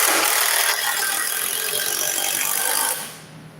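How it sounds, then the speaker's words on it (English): Power driver running screws into the side of a wooden skid: a loud, steady whirring drive for about three seconds, close by, then it cuts off. "just screwing these in"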